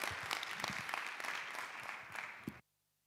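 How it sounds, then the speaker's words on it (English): Conference audience applauding a keynote speaker, dense steady clapping across the room that stops abruptly into silence after about two and a half seconds. "Give a round of applause."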